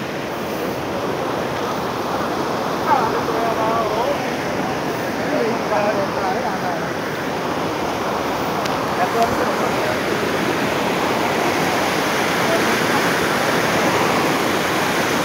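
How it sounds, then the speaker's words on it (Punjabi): The Sutlej river, flowing down from Nangal with its water level rising, gives a constant, loud broadband roar of rushing water, with a bit of wind buffeting the microphone. "ਇਹ ਹੈ ਸਤਲੁਜ ਦਰਿਆ ਦਾ ਪਾਣੀ ਜਿਹੜਾ ਆ ਰਿਹਾ ਨੰਗਲ ਤੋਂ"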